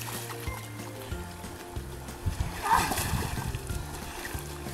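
A small child sits down in shallow water, sending up a short close splash and dribbling water sounds around the middle, while an adult voice talks over a low hum.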